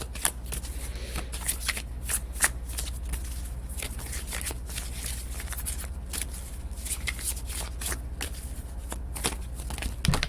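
Oracle tarot cards shuffled by hand in quick, dense riffling bursts with crisp flicks repeating steadily, close and fairly quiet, with no talking.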